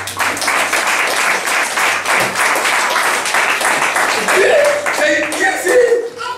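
A church congregation bursts into applause, dense clapping from many hands mixed with voices and some chuckling, loud and sustained, fading toward the end as a voice talks.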